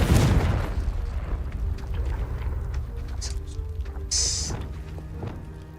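A Confringo explosive spell cast in the Hogwarts Legacy video game bursts with a loud booming blast at the start, followed by a rumbling, crackling decay and brief fiery bursts, with no voices.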